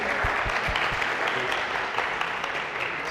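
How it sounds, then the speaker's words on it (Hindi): A studio audience at a TV game show breaks into sustained applause, dense steady clapping with a few louder individual claps near the start. "तालियां होनी चाहिए फरहान साहब के लिए भी"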